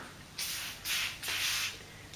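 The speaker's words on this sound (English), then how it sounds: "Foam cleaner, handy stuff" Three broad hissing bursts of foam cleaner sprayed onto an electrical lamp holder, each lasting about half a second with short gaps between, close and fairly loud with no talking.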